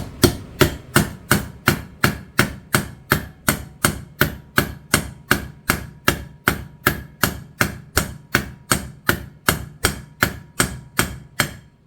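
A hammer tapping a U-joint cap into place with about thirty evenly spaced, moderate metallic knocks in a steady rhythm, close by and with no talking.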